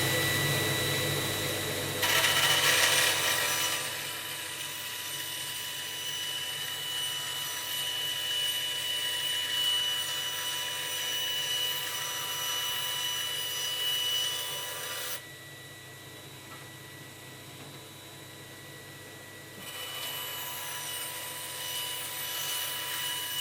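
A bandsaw cutting a wooden fretboard blank down both sides, leaving a steady close mechanical whine and rasp that runs continuously and dips briefly in loudness partway through, with no talking.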